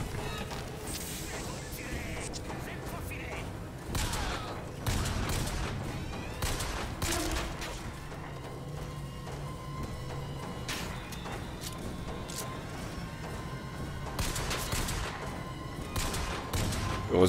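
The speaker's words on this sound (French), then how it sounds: "On me tire dessus, je répète, on me tire dessus." Rapid gunfire bursts and heavy shots from the PC video game Bioshock Infinite ring out in repeated volleys over a dense, busy game soundscape, loud and close throughout.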